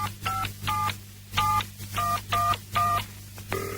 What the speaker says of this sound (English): I'll dial again.